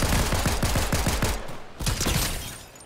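Rapid automatic gunfire in a Fortnite match, a loud close burst of evenly spaced shots followed by a short pause and a second flurry of shots with a shattering edge.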